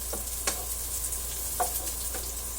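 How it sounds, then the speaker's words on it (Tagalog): Onion and garlic sauté in a pan for a sayote dish, making a steady close sizzle with a few faint clinks from stirring. "Gisa lang po natin ng maigi."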